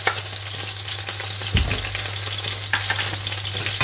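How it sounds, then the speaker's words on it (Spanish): Butter melts in hot extra virgin olive oil in a pan over lowered heat, giving a loud, dense, continuous sizzle and crackle up close, with a brief knock partway through and no voices. "Vamos a esperar a que se derrita lo que es la mantequilla."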